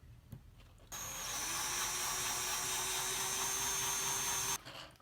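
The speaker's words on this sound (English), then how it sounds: "I'm definitely going to drill this one out." A power drill bores out the air restrictor of a Nerf Firestrike blaster, a steady loud whine running about three and a half seconds, starting and stopping abruptly, with no talking.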